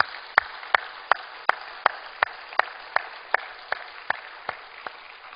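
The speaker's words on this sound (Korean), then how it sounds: "우리 하나님께 영광의 박수를 올리겠습니다" Sharp, even claps ring out about fifteen times in a steady tempo, like hands clapping together in unison, from a congregation at a Korean church service marking the March 1st Independence Movement centenary.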